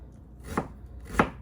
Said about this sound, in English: So I'm just gonna finely slice this onion.